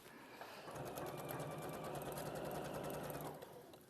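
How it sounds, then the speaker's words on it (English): A sewing machine runs steadily, stitching a seam around at 1 centimetre, a close, even mechanical whir with fast rhythmic ticking that starts, holds for a few seconds and stops. "So we're just going to sew around at 1 centimetre."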